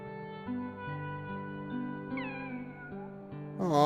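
A cat meows from the video game Kingdom Hearts II, a short rising call set over sustained game music, fairly close and clear, with no talking.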